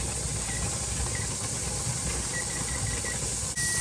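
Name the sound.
steam hissing from pressure canner valve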